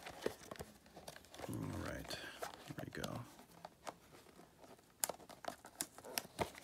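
A cat plays with crinkling plastic bags, giving rustles and sharp crackles with scattered taps, while a person speaks briefly over the first part.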